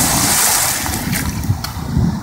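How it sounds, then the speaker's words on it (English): A big ocean wave breaks close by during cold-water winter swimming, a brief loud wash of surging water and wind noise over a couple of seconds. "we got a big wave coming"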